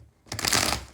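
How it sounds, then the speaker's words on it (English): Tarot cards are riffled in a quick shuffle on a sticky table, a crisp burst of dense flapping lasting under a second, close and alone. "last shuffle"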